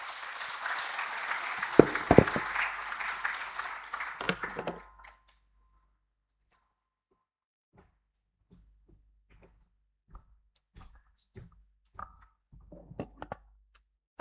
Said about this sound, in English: Another round of applause to Professor Abdallah Shehu